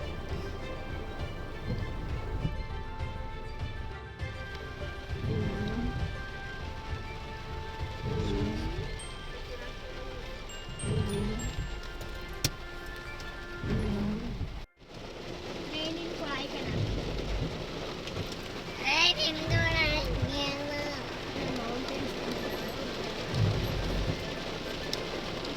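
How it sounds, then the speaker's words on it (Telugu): Heavy rain near the Guna caves at Kodaikanal pours in a steady, loud hiss with low rumbling bursts, and people talk now and then under the downpour. "ఫుల్ రెయిన్ పడుతుంది అప్పుడే. చూడండి ఎంత పెద్ద రెయిన్."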